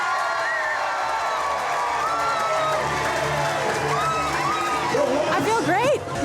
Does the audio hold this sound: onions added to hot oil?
no